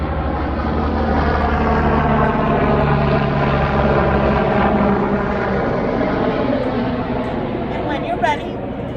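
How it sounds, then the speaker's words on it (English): A helicopter drones steadily overhead with a continuous rotor rumble, while a yoga instructor talks through stretching cues over it throughout. "There's a helicopter, so don't mind the noise."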